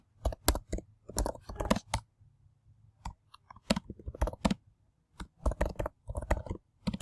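Typing on a computer keyboard while entering a hypothesis, heard as bursts of quick close key clicks with short pauses, fairly quiet and with no talk over it.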